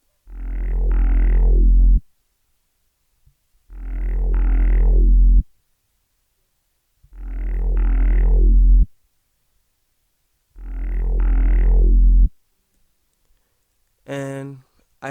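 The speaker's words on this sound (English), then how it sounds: "this bass is from a plugin called Morphine" Synth bass from the Morphine plugin in a club beat, four loud, deep sustained notes about two seconds each with short gaps between them, followed by a brief bright tonal stab at the end.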